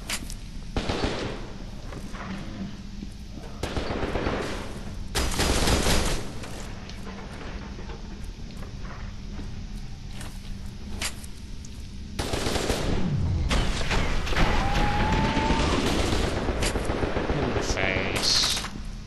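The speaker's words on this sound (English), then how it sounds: "Shooting suggests that he's still holding down on the trigger." Video game gunfire in the shooter F.E.A.R. 2: rapid automatic bursts and heavy blasts come in loud waves over a rumbling combat background, with a sustained barrage near the end.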